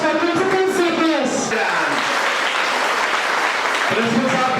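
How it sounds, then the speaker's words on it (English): An audience at a school event in Srinagar applauds the principal, a loud, continuous wash of clapping that begins under a speaking voice and carries on alone to the end. "A huge round of applause for Principal CPS."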